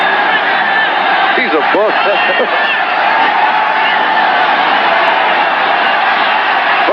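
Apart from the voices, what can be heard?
football stadium crowd cheering a sack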